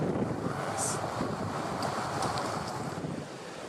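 Wild ocean surf along a grassy coastline roars under strong wind buffeting the microphone, a loud continuous wash with a few brief high clicks.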